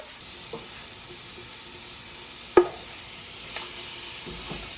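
Ground beef browning and being stirred in a pot with chopped onions, peppers and celery for dirty rice: a soft steady sizzle with a sharp utensil knock in the middle and a few lighter scrapes.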